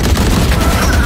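Dense bursts of gunfire and booming blasts from a school esports match of a tactical shooter game, a cannon shot fired through smoke, loud and continuous with no clear gaps between shots.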